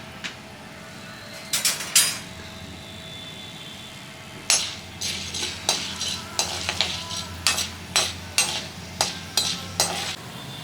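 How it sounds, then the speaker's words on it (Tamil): Black peppercorns fry in hot oil in a kadai while a utensil stirs them. Sharp metallic scrapes and clinks land in a quickening series over a soft, continuous sizzle, close and fairly loud. "எண்ணெய் காஞ்சதும் இந்த மிளகெல்லாம் போட்டு பாருங்கள்,"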